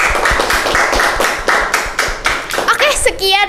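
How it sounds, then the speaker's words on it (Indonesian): A small group of students in a presenter club claps for Najwa Shihab, a run of fairly loud, quick, rhythmic hand claps close by, tapering off as voices begin speaking at the end. "Tepuk tangan dulu nggak sih untuk Najwa Shihab?"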